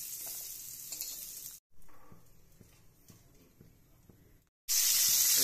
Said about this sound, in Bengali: এরপরে আমরা কেটে রাখা চিংড়ি মাছগুলো ভালো করে ভেজে নিচ্ছি